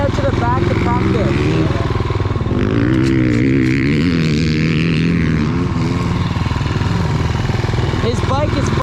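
A motocross dirt bike engine at a sand track running roughly and unevenly, revving loudly up close with a fluctuating buzzy tone while people talk over it.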